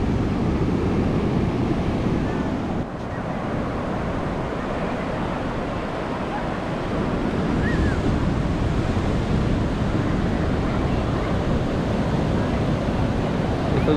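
Ocean waves roll steadily onto a black sand beach at Puerto San José, Guatemala, a continuous broad roar of surf with wind buffeting the microphone throughout.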